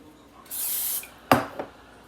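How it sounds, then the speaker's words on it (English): A hand-pumped spray bottle hisses in a sustained half-second burst during chicken preparation, followed by a sharp clack and a second, quieter click, close up with no talking. "let me spray it again"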